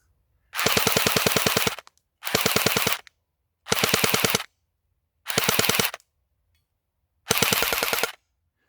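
Airsoft gun firing BBs on full auto in five rapid bursts, each a fast, buzzing rattle of shots lasting about half a second to a second, separated by short silences.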